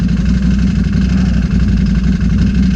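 A Can-Am off-road machine's engine runs close and loud with a steady low drone and slight wavering rhythm, no voices over it.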